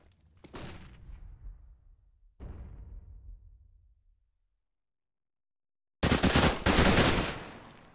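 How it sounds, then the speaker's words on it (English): Gunfire in a competitive Counter-Strike tournament match on the de_cbble map: two sharp shots, each with a decaying tail, then a pause, then a loud burst of rapid fire near the end. "Does get the headshot on Freddy B, but quick trade coming in from Palv"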